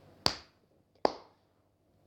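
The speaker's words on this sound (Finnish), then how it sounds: "pienet taputukset." Two small, sharp hand claps spaced under a second apart, close and crisp with quick decay, followed by the start of a third impact at the end, in otherwise near silence.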